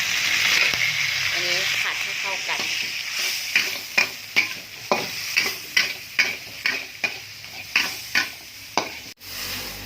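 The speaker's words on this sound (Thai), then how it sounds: "กระเทียมลงไปผัด ใส่เครื่องปรุงนะคะ ใส่น้ำตาลลงไปซอสปรุงรส" Garlic and seasonings stir-fry in an oily pan, a loud continuous sizzle overlaid with a regular series of spatula scrapes and taps, with a voice talking over it.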